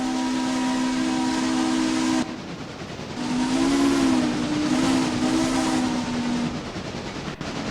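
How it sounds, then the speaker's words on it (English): A steam locomotive whistle on the FR10 engine in the Railroader train game, only partly pulled, gives two long steady hissing blasts, the second slightly wavering in pitch, with a brief gap of quieter hiss between them. "not pulling the FR10's whistle all the way sounds a lot nicer"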